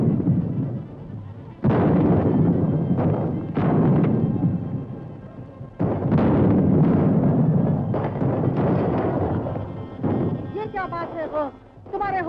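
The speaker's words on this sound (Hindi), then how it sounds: "दुश्मन का तोपखाना गुसाइयों के मंदिर के पीछे से गोले फेंक रहा है।" Enemy artillery fires shells from behind a temple in a historical war film set at Jhansi, with several heavy booms and rumbling blasts spaced a second or two apart, mixed with voices and battle noise.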